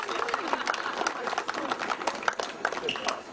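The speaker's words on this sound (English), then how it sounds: "Let's have a big round of applause for your parents." Round of applause for parents at a youth baseball all-division medal presentation, steady clapping with crowd chatter and cheering voices throughout.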